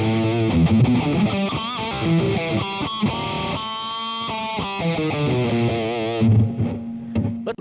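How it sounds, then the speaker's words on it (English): Electric guitar played through the traditional distortion setting of a Boss Katana MkII amplifier, loud, gritty riffs and sustained chords with shifting notes, ending in a held tone, with no talking. "it says it gives a basic traditional distortion sound"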